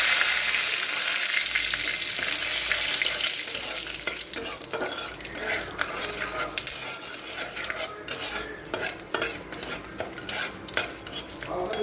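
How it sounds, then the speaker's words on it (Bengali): Whole cumin, whole garam masala and bay leaves hit hot oil in a pan for a tempering, giving a loud steady sizzle with stirring and utensil scrapes that grow choppier and more broken toward the end. "আমি তেলের মধ্যে ফোড়ন দিয়ে দেব গোটা জিরে, গোটা গরম মশলা"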